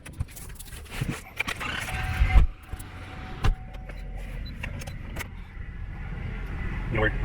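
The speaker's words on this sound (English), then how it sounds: "And so, Don, let's go ahead and get in the truck, and we'll take a little drive" A truck door is opened and shut with a thump and rustling as people climb in, followed by low engine rumble while someone talks.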